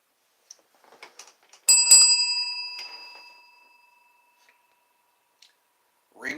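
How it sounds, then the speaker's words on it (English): A single bright ding of a service bell, struck once and ringing out with a long fading tone in a quiet room, with small handling taps around it. "Ring for service."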